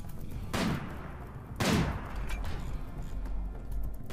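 Two sharp gunshots from the RimWorld video game ring out about a second apart over a steady low background hum, each a loud broadband crack with a short decaying tail.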